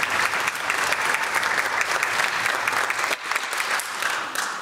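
Sustained audience applause fills a high school orchestra spring concert hall, a dense, even wash of many hands clapping that dips briefly near the end before swelling again.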